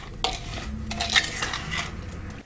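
Apple puree reducing in a pan for a shortbread crumble traybake is stirred, giving close metallic scraping and clinking of a utensil against the pan over a low bubbling bed, with no talk.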